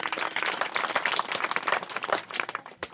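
An audience at a Marathi kirtan held for a first death anniversary claps in dense, irregular bursts for about three seconds, the clapping thinning toward the end.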